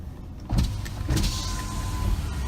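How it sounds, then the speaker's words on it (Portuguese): Power windows on a Chevrolet Onix with one-touch operation whir as the glass travels, a close motor hum in a quiet cabin with a couple of soft thumps as each window starts and stops. "o carro tem todos os vidros um toque"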